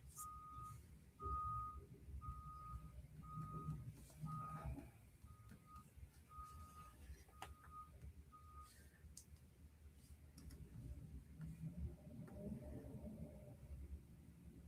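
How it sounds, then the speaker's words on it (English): A large vehicle, likely the bus, rumbles past outside with a steady series of evenly spaced reversing beeps, moderately loud, followed by lower engine rumble as it moves on; no talk over it. "I hear the bus."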